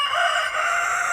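A young fighting rooster brought from Rangamati gives a short, loud, sustained crow that fills the moment without any voices.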